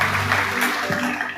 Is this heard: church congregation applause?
yes